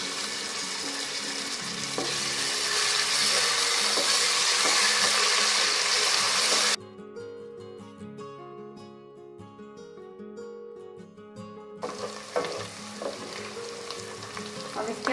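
Garlic ginger paste hits fried onions in a hot pan for a loud, steady sizzle, then the frying drops away to a quieter spell with stirring scrapes before the sizzle swells back up.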